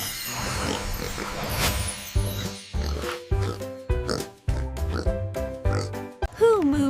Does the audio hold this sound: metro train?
no